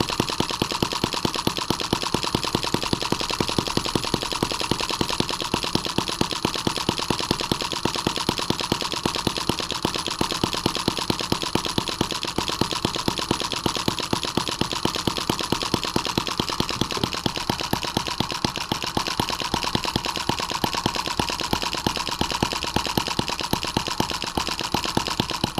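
A Chinese M17B engine idles steadily after a carburetor adjustment, its rapid even firing pulses running continuously and loud throughout, slightly rough but not hunting, with no talk.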